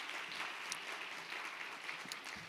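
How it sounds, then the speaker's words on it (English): Audience applause for an honoree at a small business summit in Houston, a steady, moderately distant wash of clapping held evenly throughout with no talk over it. "we need to give a big round of applause to Christina McKinney"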